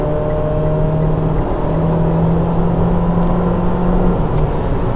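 A 2020 Mitsubishi ASX with a CVT gearbox accelerates, its engine holding a steady, droning whine with a sustained tone and road rumble from inside the cabin, loud and unbroken, with no talking.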